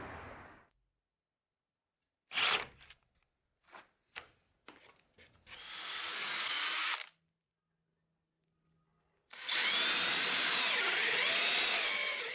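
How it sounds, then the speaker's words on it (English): Jigsaw cutting wood trim for a greenhouse build, heard up close in two loud sustained cutting bursts separated by short knocks and handling sounds. "So I'm using my trusty jigsaw to do this."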